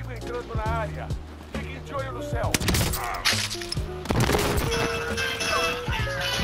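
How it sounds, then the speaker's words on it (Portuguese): Sharp sniper rifle gunshots crack repeatedly in a video game, among game sound effects and background music, with a voice talking over the action. "dando uns tiros de sniper."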